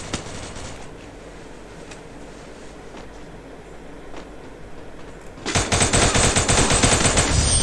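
Enemy gunfire in a 70s-flavoured stealth action video game, The Chameleon: a quiet background with a few faint pops gives way to sudden loud, rapid automatic bursts that continue to the end.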